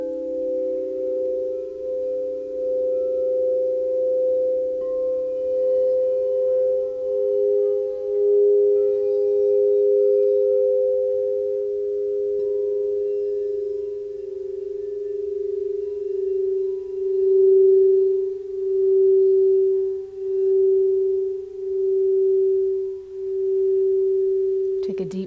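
Crystal singing bowls tuned to 432 Hz ring in a long, steady, pure sustained drone, swelling gently with slow pulsing beats in a quiet meditative setting, with no speech.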